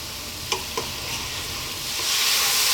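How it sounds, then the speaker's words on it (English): Ground beef with spices sizzling in a pan for stuffed eggplants, a steady fry hiss with two sharp utensil knocks early on, the sizzle swelling louder toward the end. "Stir often."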